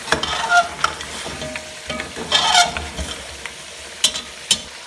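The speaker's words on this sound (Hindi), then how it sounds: "और इसको अच्छी तरह जो है ना भून लेंगे।" Beef paya fries in hot oil in a pan, a crackling sizzle broken by repeated scraping stirs and clinks of the spoon, close and fairly loud with no talking.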